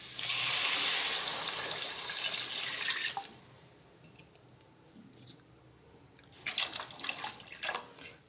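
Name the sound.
water being added to chole masala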